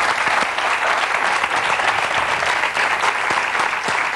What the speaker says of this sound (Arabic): بدي اطلب من الجمهور تحية كبيرة للأخ محمد